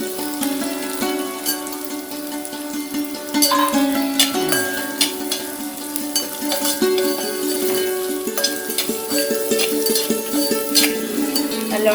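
Breadfruit masala with grated coconut is stirred in a pan, giving repeated scraping and light clinking of the spoon against the metal over a soft, steady sizzle, close and fairly loud, with no talk.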